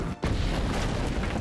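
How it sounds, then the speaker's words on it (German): Explosion in Mario + Rabbids Sparks of Hope: a sudden boom after a short pause, followed by a dense rumbling wash of game noise that continues to the end. "Nächste Explosion."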